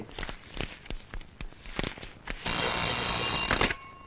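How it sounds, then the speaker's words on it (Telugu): Office telephone bell ringing in a film comedy scene, a sustained bright electric ring starting partway through after a series of sharp taps or footsteps, fairly close and loud. "సుబ్బారావు చుండూరు నుంచి ఫోన్ చేస్తున్నాడు."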